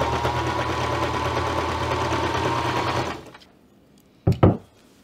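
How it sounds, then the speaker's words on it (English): A sewing machine runs steadily, stitching straight side seams on a ribbon skirt for about three seconds before stopping, followed by a couple of brief handling clicks. "I'm just gonna sew the side seams with a straight stitch."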